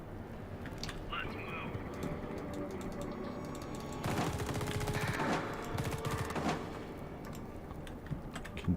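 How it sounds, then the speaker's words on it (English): Rapid gunfire from a top-down sci-fi shooter, The Red Solstice, with bursts of automatic weapon fire crackling over steady game noise, growing denser in the middle before easing off. "Continue shooting everything in sight"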